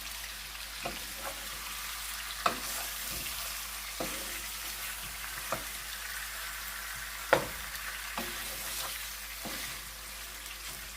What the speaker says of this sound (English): I wanted to get a different type of sizzle to it.